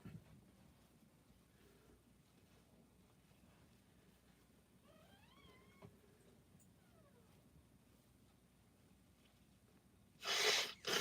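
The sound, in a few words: sneeze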